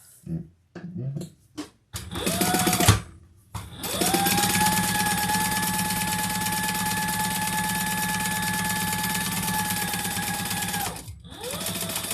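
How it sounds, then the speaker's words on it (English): A sewing machine top stitches a bag panel for a crossbody bag: a few short starts, then a long steady run of fast, close mechanical whirring for about seven seconds before stopping and starting again. "I'm going to turn that over and top stitch it flat."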